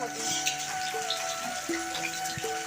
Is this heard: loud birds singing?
no